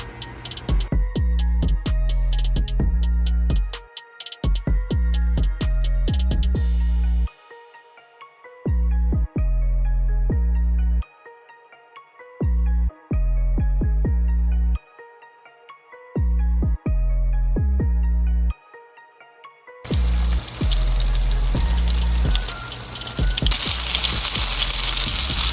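Cajun-seasoned bluegill fillets frying in scorching hot oil, with a loud, steady sizzle and crackle that cuts in and out in bursts, then swells into a dense, louder roar of bubbling grease near the end.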